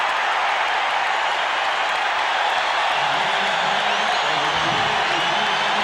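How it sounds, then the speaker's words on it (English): A large crowd of Bears fans in the Tampa stadium applauds a touchdown, a dense, steady wash of distant clapping and cheering that carries on without a break through the whole stretch. "there are a goodly number of Bears fans applauding that touchdown here in Tampa"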